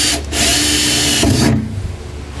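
A power drill with a 1/8 inch bit bores pilot holes in the bed of a 2020 Chevrolet Silverado during a Curt custom fifth wheel installation, sounding loud and close as a continuous whir that eases off near the end.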